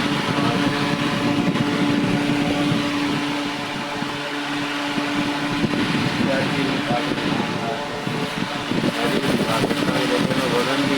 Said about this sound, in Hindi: तो देखिए कितना तेज़ पंखा चल रहा है,